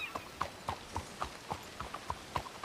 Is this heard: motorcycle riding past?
no